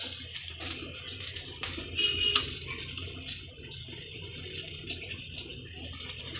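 Water runs from a tap into a container at home in a steady splashing stream, fairly quiet and close, with faint rattles and no speech.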